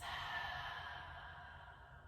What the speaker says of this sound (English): Deep breath in through the nose. Exhale through your mouth.